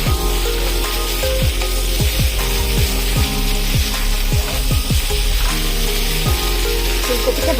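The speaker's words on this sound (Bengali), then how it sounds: "ফুলকপিগুলো একটু ভেজে নিই" Cauliflower florets fry in a pan with a steady, close sizzle that runs the whole time, broken by a repeating pattern of light scraping or stirring knocks. No one speaks.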